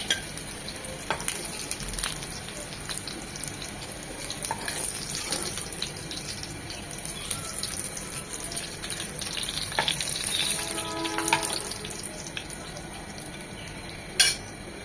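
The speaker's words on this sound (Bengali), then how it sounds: "আমাদের আর তেল লাগবে না, এই তেলে এই কাবাব দুটো ভেজে নেব" Beef mince seekh kebabs frying in a little oil, a continuous sizzle with spatula stirring and scraping, plus running water and a sharp clink near the end.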